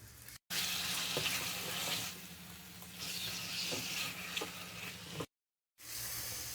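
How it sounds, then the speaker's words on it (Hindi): Chicken mince fries in a pan with a steady, close hiss of sizzling, broken by two brief gaps of silence. "चिकन को हम 3 से 4 मिनट फ्राई करेंगे।"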